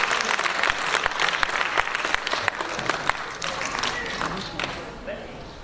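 Dense applause from an audience at a literary awards ceremony, steady and lively, slowly thinning toward the end, with a voice faintly audible beneath it.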